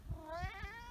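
A cat on a windy homestead garden walk gives a single short, close meow that rises and falls, with a low outdoor rumble beneath it.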